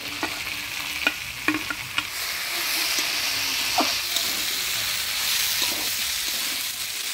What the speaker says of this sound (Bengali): এবার সয়াবিন দিয়েও নাড়াচাড়া করে দিব